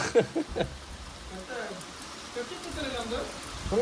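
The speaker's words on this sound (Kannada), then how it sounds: "ಮಳೆ ಬರ್ತೈತೆ." Rain pattering steadily on a surface outdoors during a Diwali family gathering, a soft continuous hiss with scattered drop impacts, while people talk over it nearby.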